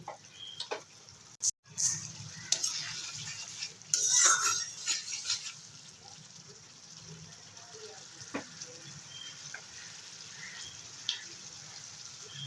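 Fish curry with glass carp and pointed gourd simmers and sizzles softly in a pan with a splash of water, while a spoon stirs it in intermittent clinks and scrapes against the metal.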